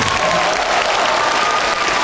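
An audience at a charity concert breaks into dense, loud applause, a packed, even roar of clapping that fills the whole moment.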